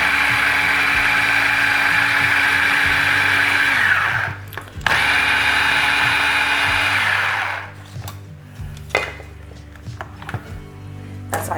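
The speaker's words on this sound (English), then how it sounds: "I might grind it just a little bit more to make the onion smaller" A blender grinds a salsa with onion, a loud, close, steady whirring that runs twice in short pulses and then stops, leaving quiet handling clatter.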